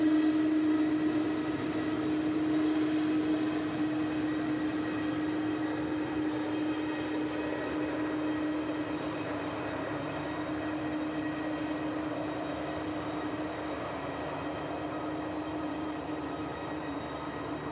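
Aircraft at Manchester Airport, a steady droning engine hum with a strong low tone that fades slightly over time, heard from a distance with no talk.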